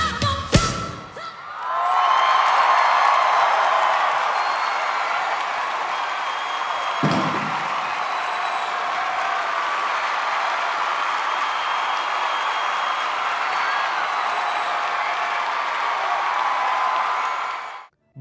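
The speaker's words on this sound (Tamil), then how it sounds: "கைத்தட்டல்கள் எழுந்தன" A large crowd at a concert applauds and cheers in a dense, steady roar that holds for nearly the whole stretch, heard from within the audience, with a thump near the start and another partway through.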